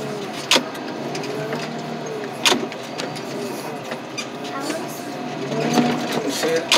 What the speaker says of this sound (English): These cars turn into pieces when you crush them